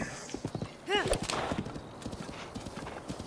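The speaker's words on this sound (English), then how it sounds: "Let's go, Turbo Horse." A horse in Zelda: Breath of the Wild gallops with rapid hoof clip-clops and gives one brief whinny, while a person talks over it.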